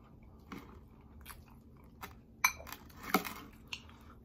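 Crunchy toast being bitten and chewed close to the mic during a mukbang, with a handful of sharp, separate crunches over quiet gaps and a faint clink of dishes.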